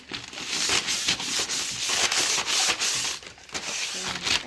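Brown paper bag rubbed by hand back and forth over the edges of vintage wooden furniture, a continuous close scratchy sanding hiss with rhythmic stroke pulses and no speech.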